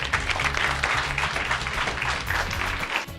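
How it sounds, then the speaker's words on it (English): An indoor audience gives a speaker a round of applause at a talk event, a dense, sustained burst of clapping heard close and steady throughout with no speech over it. "everybody give her a round of applause"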